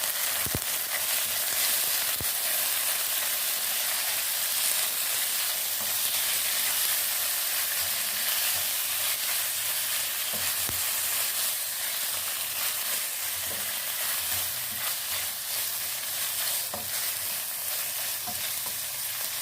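Cubed chicken sizzles steadily in a hot pan, a continuous close frying hiss with occasional soft clicks of stirring throughout, no voices.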